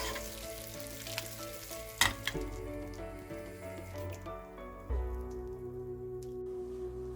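Butter sizzles hot in a frying pan while a Turkish Hunkar Begendi kebab is prepared, a soft, continuous crackle under background music with a few sharper pops along the way.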